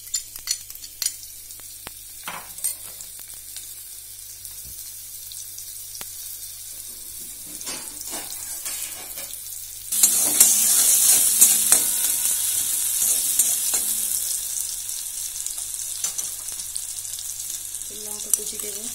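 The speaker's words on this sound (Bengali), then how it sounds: "তেলটা গরম হয়ে গেছে, এবার পেঁয়াজ কুচি গুলো দিলাম।" Chopped onions hit hot oil in a pan and break into a loud, steady sizzle partway through, following quieter kitchen clinks and handling.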